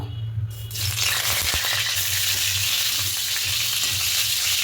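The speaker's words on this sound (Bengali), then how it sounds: "আলুগুলো দিয়ে হালকা করে একটু ভেজে নেব" Potatoes dropped into hot oil for potato biryani burst into a loud, steady sizzle that fills the rest of the moment, with a few light clinks as they settle in the pan.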